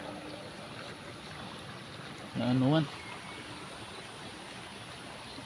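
Steady, broad rushing of fast-flowing, overflowing floodwater from a typhoon fills the whole clip, with a brief voice breaking in partway through.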